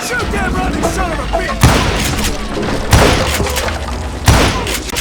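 Gunfire in the Western shooter Call of Juarez: Gunslinger: three heavy, booming shots spaced about a second and a half apart, each cutting through a dense bed of battle noise and background game sound.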